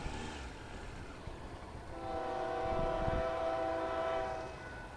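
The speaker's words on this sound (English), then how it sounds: "Here comes a train." A train rumbles by, building to a sustained horn blast partway through that holds for a couple of seconds, heard with no talking.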